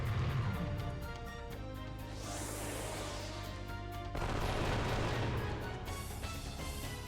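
Gatling gunfire from the game Wild Arms 3, a dense sustained barrage of rapid shots layered with booming impacts, loud and continuous throughout with no talking.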